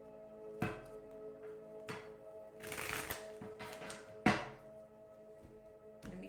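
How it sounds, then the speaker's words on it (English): A deck of tarot cards is shuffled close by in a few quick riffling bursts separated by soft taps and thumps, quiet and with no talk. "Let me shuffle this next deck real quick."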